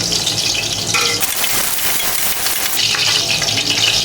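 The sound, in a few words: potato chunks frying in hot oil on high flame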